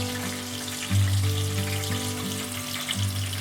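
Soaked fasting-style dahi vadas are squeezed out by hand over a bowl of thinned, salted and sweetened yogurt, giving a steady wet trickle and splash close by against a constant low kitchen hum, with no talking.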